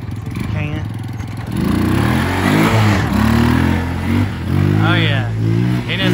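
A motorbike revs hard with a throaty mid-pitched engine that rises and falls, as if spinning its tires, close by and loud, with people talking over it throughout.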